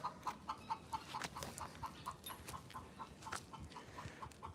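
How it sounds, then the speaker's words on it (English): Chickens clucking in short repeated bursts at a steady rhythm, moderately close, with light outdoor background noise and no talking. "oh, chickens."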